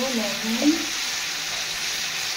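Bele fish sizzling in a pan with turmeric and salt, a steady broadband fry hiss running throughout with a brief stir near the middle, close and moderately loud.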